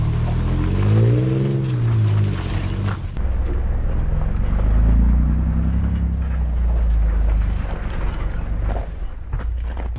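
A car crawls over rough, bumpy winter ground in Woodland Park, Colorado, its engine rising and falling with creaks and thumps from the body and suspension, loud and close with no talk.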